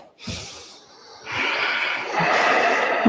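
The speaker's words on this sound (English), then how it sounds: "We're breathing heavy through the nose" Forceful breaths through the nose during a kettlebell workout, with a sharp snorting exhale followed by a long, steady rush of air that swells louder and continues without talk.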